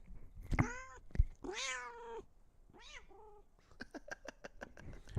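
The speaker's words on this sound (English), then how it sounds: "You heard it straight from the cat's mouth." Cat meowing close up: a few drawn-out, wavering meows and a caterwaul-like cry, then a quick run of short chirping calls, indoors with no talking.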